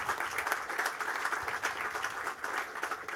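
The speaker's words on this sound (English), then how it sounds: "Round of applause." Steady round of applause from an audience at a farm ribbon-cutting event, a dense wash of clapping held at even loudness throughout, moderately distant, with no voices over it.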